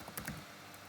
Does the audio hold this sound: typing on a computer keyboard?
yes